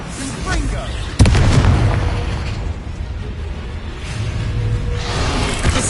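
A Confringo fire spell blasting in Hogwarts Legacy, a sudden booming burst followed by a rumbling fiery crackle that tails off under dense game ambience.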